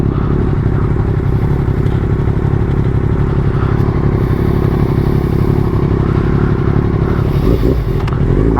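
Loud, close motorcycle engine droning steadily on a new bike during a night ride, with a constant low rumble, slight revving swells and some clattering near the end.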